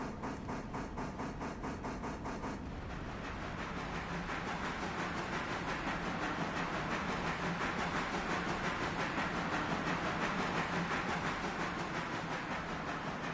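Train rolling along tracks in the railroad game Railroader, a steady broadband rumble with rhythmic clacking at first, then a continuous rushing hiss and rumble that holds at a constant moderate level throughout, no voices.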